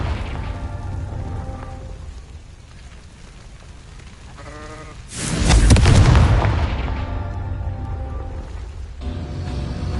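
In the Hogwarts Legacy video game, a Confringo fire spell bursts into a loud booming explosion about halfway through, rising out of ambient game music and sound effects and then decaying into rumbling.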